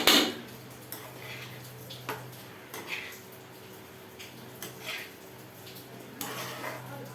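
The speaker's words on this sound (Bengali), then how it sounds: "এই নেড়ে দিলাম ঘিটা" Ghee gets stirred in a biryani pot, with scattered metallic scrapes and clinks of a spoon against the vessel over a low background hum, irregular and fairly quiet.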